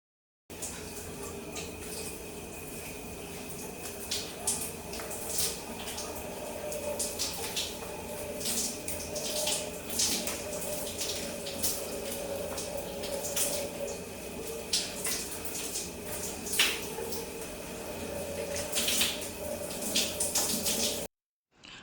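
Water runs steadily while conditioner is rinsed out of curly microlocs, a continuous close hiss and splash with scattered drips and bursts, no talking.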